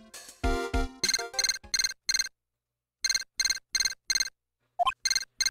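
Electronic ringing of a transceiver in the Ace Attorney video game, short repeated trilling bursts in groups, clear and close, with brief pauses between sets and a game sound effect near the end.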